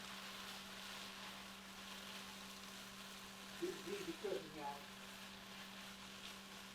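Vegetables heating through in a pan give off a faint, steady sizzle that runs throughout, with a few soft stirring clinks near the middle, and someone talks at times.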